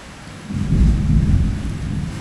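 Heavy rain with thunder: a deep rolling rumble swells after a slightly quieter opening and stays loud and steady over a continuous rain wash. No voices.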